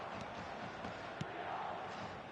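Match-day stadium crowd in eFootball, a fairly quiet continuous murmur and swell of fans with a few faint sharp knocks scattered through it, heard alone without commentary.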